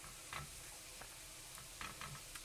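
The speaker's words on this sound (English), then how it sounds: "You want to make sure to keep stirring it around as it cooks" Swiss chard frying in a pan and being stirred, a faint steady sizzle with a few soft scraping strokes, quiet and without voices.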